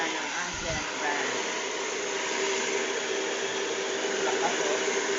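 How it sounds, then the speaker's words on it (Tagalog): Steady airy whir of an Ancient brand hair blower running continuously while drying hair, close and even in level with a faint low thump near the start. "I-blower mo. Patuyo ng buhok lang."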